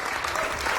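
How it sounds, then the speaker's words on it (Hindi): Brief burst of crowd applause at a Hindi comedy poetry gathering (hasya kavi sammelan), dense and steady but fairly quiet, heard alone for under a second. "एक बार जोरदार तालियां होनी चाहिए।"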